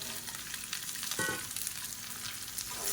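Quarter kilo of washed, cut green beans sautéing in hot oil in a pan, a steady dense sizzle throughout with a brief louder crackle burst near the middle, close and continuous with no voices.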